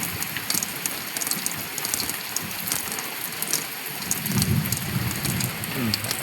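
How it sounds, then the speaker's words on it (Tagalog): Heavy rain pours steadily on surfaces near a parked motorcycle, with a low rumble of thunder rising toward the end beneath the dense hiss of the downpour. "Sobrang lakas kasi kumukulog pa."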